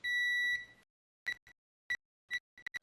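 A multimeter gives continuity-test beeps while a ribbon cable's pads are probed on a game board: one long steady tone, then several short sharp beeps at irregular intervals, clear against silence.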